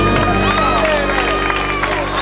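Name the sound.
crowd applause at outdoor concert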